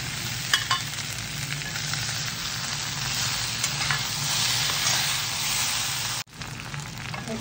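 Fried cauliflower pakoras sizzle and crackle in a frying pan as they are stirred into the masala, a loud, continuous hiss with scraping stir strokes and a brief cut near the end.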